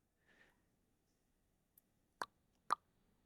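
A few sharp tongue clicks, quiet at first and then two louder pops, spaced unevenly, after a faint murmur in a quiet room.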